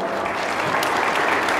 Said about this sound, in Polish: Brawa, gratulujemy serdecznie panią.